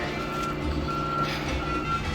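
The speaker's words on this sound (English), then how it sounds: "He's our loader driver." A wheel loader backing up at a crash scene, its reversing alarm giving three steady evenly spaced beeps over a constant diesel engine rumble.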